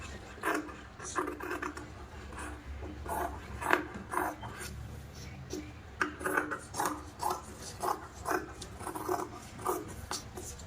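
Blouse fabric being cut through the middle with scissors, heard as a series of close, soft rhythmic snipping and rasping strokes in a quiet room, with no speech.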